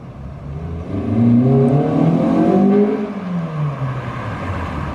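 A rebuilt Honda Civic GSR engine in an AWD Civic wagon revs up and holds a strong, rising mechanical whine with clear harmonic sweeps, then eases back to a steady idle-like drone, close and loud.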